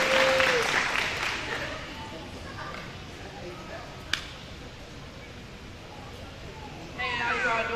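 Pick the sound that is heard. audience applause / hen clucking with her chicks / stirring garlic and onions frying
audience applause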